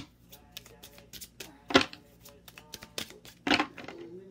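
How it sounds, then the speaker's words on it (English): Tarot cards being shuffled for a Sagittarius reading: a run of quick papery riffles and taps with two louder bursts of card flicks, close and clear, no talking. "let's get three more shuffles for Sag for those 3 days."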